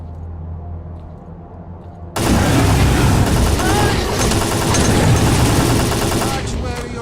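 Video game Stalker gunfire bursts in abruptly after a quiet hum, then loud sustained rapid shots and clatter run on for several seconds, with faint voices mixed in.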